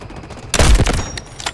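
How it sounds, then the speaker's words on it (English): An artillery barrage in the shooter game Delta Force opens with a sudden loud burst of overlapping blasts, then a rumbling tail of fading explosions and scattered cracks. "Artillery ready for barrage."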